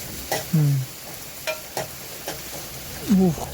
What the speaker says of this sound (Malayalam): ചെറുള്ളിയും കരിയേപ്പിലും എല്ലാം കൂടെ ഒന്ന് മൂപ്പിച്ചെടുക്കാം